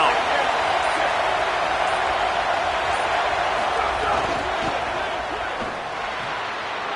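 A steady, dense roar from a stadium crowd at a football game on third down, loud and continuous throughout with no clear breaks.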